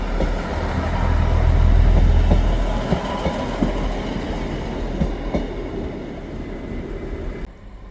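A train rumbles into a station and slows, wheels clicking over rail joints with occasional squeaks and clunks, loud and close, fading as it comes to a stop.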